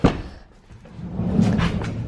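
A Honda Odyssey sliding door is pulled shut by hand with its power function switched off, giving a short knock at the start and then a longer rumbling slide and thud that ends the closing.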